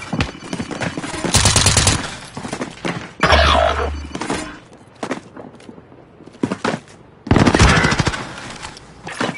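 Bursts of automatic gunfire in Call of Duty Warzone, several loud rapid volleys separated by quieter gaps with scattered impact thuds, heard up close without speech.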